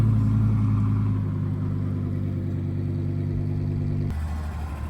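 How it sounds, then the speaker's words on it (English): Lamborghinis pulling out of a Las Vegas Cars and Coffee parking lot, their engines a loud, steady, close growl that holds level and then shifts pitch near the end. "The Lambos are leading the charge out of the parking lot."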